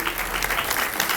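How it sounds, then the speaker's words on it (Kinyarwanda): Crowd of wedding guests clapping at a celebration, a dense, steady burst of many hands applauding close by, fairly loud and unbroken, with faint voices mixed in. "Amashyi n'impundu mwumvishije,"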